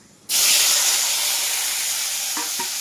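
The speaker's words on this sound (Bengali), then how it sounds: "কড়াইয়ে তেল দিয়ে দিয়েছি, তেল গরম হয়ে গেছে, আমি দিয়ে দিলাম এগুলো" Spices, chopped tomato, chili and onion drop into hot oil in a kadai for masoor dal, setting off a sudden loud sizzle that holds steady, with faint stirring clicks near the end.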